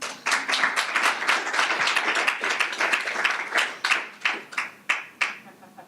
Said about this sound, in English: And this applause.